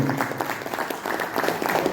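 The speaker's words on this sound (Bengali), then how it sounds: "জোরে হাততালি মঙ্গলের জন্য।" Loud applause from a company team on a Digha tour, with dense steady clapping throughout as a staff member named Mangal is honoured with an award.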